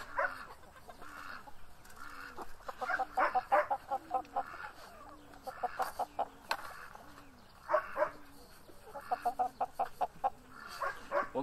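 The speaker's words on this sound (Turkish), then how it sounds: "Güvercinlere de buğday vereceğim." Pigeons being fed wheat grain give repeated low, rolling coos, with busy pecking taps and clucking from other birds nearby, in an otherwise quiet setting.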